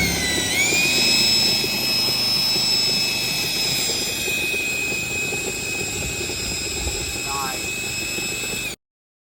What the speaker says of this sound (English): This generator is so awesome.